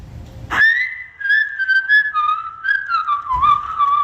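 A boy whistles a clear melodic tune of sustained and sliding notes, close and alone, after a brief knock at the start.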